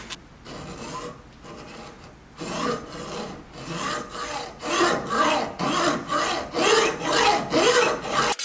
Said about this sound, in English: I'm gonna cut it off with a hacksaw